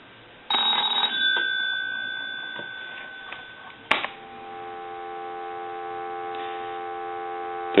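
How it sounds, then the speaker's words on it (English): A rotary donut-circle telephone under repair gives one short bell ring that fades, then a sharp click, and a steady dial tone hum continues to the end. "I'm going to go ahead and hang up the hook switch and ring the telephone"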